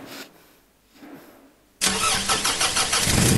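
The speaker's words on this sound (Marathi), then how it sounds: "आता गाडी कशी चालू होते ती बघा." A car engine cranks and catches, with quiet background sounds first, then a sudden loud start that settles into a steady, rough idle close by.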